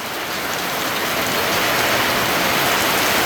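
Heavy storm rain pours down steadily, a loud, dense, continuous hiss of drops beating on surfaces close by, with no voices.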